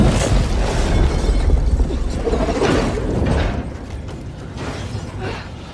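A loud, sustained burst of rumbling noise with crackling and clattering debris, settling slightly toward the end, like a vehicle blowing up on screen.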